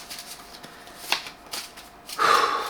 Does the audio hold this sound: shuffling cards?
yes